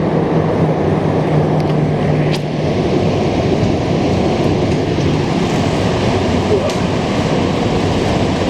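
Train wheels rumble and rub along a track in a steady, dense roar with faint squealing tones mixed in, heard up close under continuous motion noise.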